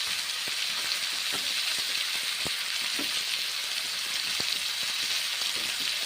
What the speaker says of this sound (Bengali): কুমড়োগুলো ছেড়ে দিলাম, এখন কুমড়ো নেড়ে চেড়ে নিচ্ছি।